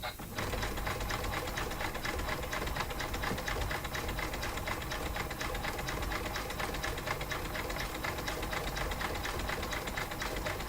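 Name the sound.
embroidery sewing machine stitching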